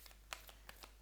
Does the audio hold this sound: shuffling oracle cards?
yes